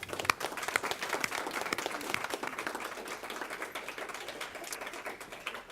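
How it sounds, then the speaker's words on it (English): A small gathering at a legislative testimony hearing applauds students, with sparse, uneven individual claps in a modest room, moderately near and steady, without talking. "I want to give you a round of applause."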